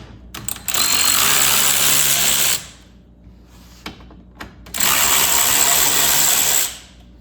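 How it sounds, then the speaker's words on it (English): A power tool with a T20 Torx bit backs two bolts out of the front intake piece on a Mk8 VW GTI, in two loud, sustained whirring bursts separated by a brief pause with light clicks. "I have a T20 Torx bit and I'm going to be taking these two bolts off on the front to get the little intake piece off here"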